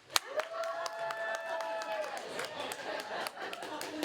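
Audience at an improv comedy show, therapy-themed, claps and cheers in a scattered burst, with a few whoops and crowd chatter mixed in over steady room noise.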